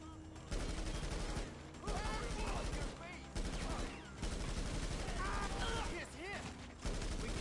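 Rapid gunfire from a new rifle in GTA Online's LS Drug Wars update, sustained bursts of shots mixed with game effects and faint voices, fairly quiet overall.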